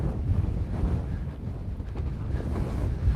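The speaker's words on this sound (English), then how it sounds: "it's windy as hell." Strong outdoor wind buffets a microphone during a walk, a dense low rumbling roar with gusty swells that runs the full length, close and loud, with no voice heard.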